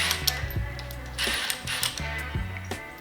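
A wrench ratchets on a 9/16 bolt while a Trackchair AXIS motor is being removed, giving close, repeated clicking turns in a quick uneven rhythm.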